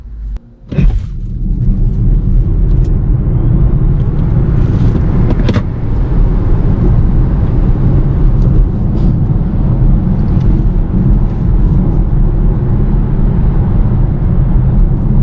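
A 2022 Volvo XC40 Recharge Pure Electric car accelerates hard from a standstill, heard as a loud, steady low rumble of road and motor noise inside the cabin that holds constant after a brief thump at the start.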